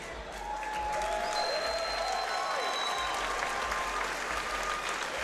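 Steady, loud crowd applause and cheering fill a mixed martial arts event arena for both fighters, unbroken throughout with whistles rising above the clapping.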